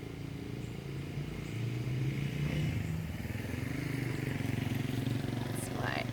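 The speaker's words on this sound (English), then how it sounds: "here comes the motorcycle" A motorcycle approaches outdoors with a low, rumbling engine that grows gradually louder and steadier over several seconds, a faint bird chirp breaking through near the end.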